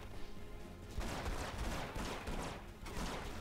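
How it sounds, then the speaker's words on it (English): Shotgun blasts in the video game Red Faction: Guerrilla, a few loud booming shots spaced irregularly amid dense game noise and explosions. "Shotgun!"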